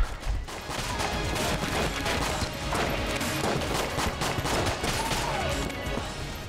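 A dense, continuous barrage of rapid gunfire and impact bursts from the video game Enter the Gungeon, including six-shooter revolver shots, fills the whole stretch loudly and without pause.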